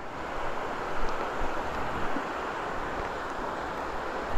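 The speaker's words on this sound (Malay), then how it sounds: "dengar air sungai best gila" A river flows steadily at a jungle campsite, a soft, continuous broadband rush with gentle surges and no talk over it.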